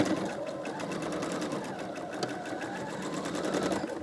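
A sewing machine runs steadily, its needle stitching fabric in a fast, even rhythm while a quarter-inch presser foot guides the seam edge, loud and close with no talking.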